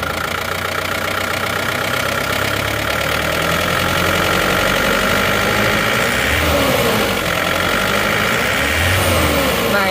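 A car engine idles evenly, giving a loud, close, steady mechanical drone with a regular rhythmic knock running through it and faint shifts in tone toward the end.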